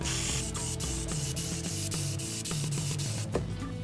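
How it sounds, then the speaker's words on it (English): A steady hiss of liquid being sprayed onto a poster continues without pause, close and fairly quiet, with a few soft ticks over a low background hum. "you cover the entire poster much like if you were spraying spray paint"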